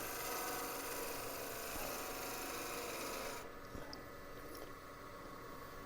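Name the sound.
bowl gouge cutting wood on a lathe, used as a planer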